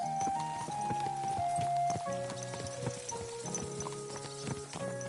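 Horse hooves clip-clop steadily while riding in a video game, with a recurring rhythmic tread under a musical tonal background and occasional other game sounds.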